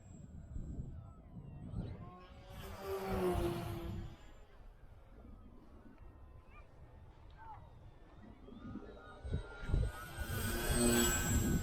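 An FT Bloody Baron Maiden RC plane with a DYS 3536 1250kv motor cruises at low throttle, its faint motor whine rising and falling as it passes, louder near the start and end, with wind noise and a voice talking over it.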